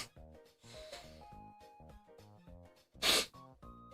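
A single sharp human sneeze bursts out near the end, loud and close, over a steady bed of layered background music with no talking.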